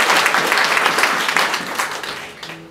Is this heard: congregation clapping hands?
yes